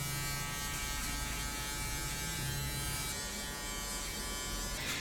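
An electric shaver running steadily at a barbershop, used with a 1.5 guard to debulk thick hair at the sides; a continuous close buzz holds through the whole stretch with no talking.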